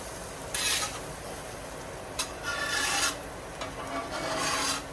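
Repeated rasping scrapes of a metal spatula across a very hot steel griddle cooking eggs, in several bursts over a steady background sizzle, with no talking.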